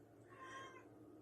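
A pet cat lets out one quiet, drawn-out meow over a low background hum, with no other sounds around it.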